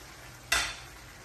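A brief stir of potato and green peas in a hot pan, a single quick scraping sizzle burst rising sharply and fading within half a second over a low kitchen hiss.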